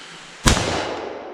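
A single sharp AR-15 rifle shot with a Daniel Defense barrel and CMC trigger cracks loudly at close range, then a reverberant tail rings out and slowly decays.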